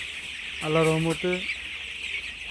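Chickens on a poultry farm cluck in two short, loud, harmonic bursts over steady background hum, with a voice speaking briefly alongside.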